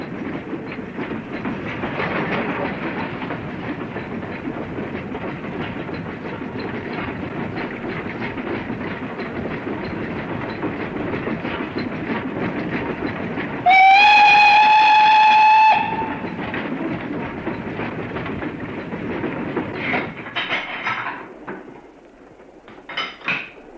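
Train running on a single-track branch line railway, with a steady rumble and rhythmic clatter of wheels, a loud whistle blast partway through, then the noise fading away.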